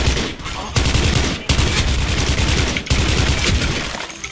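M4A1 SOPMOD rifle in the video game Special Force 2 fires loud, dense automatic bursts of rapid shots, broken by brief pauses, throughout.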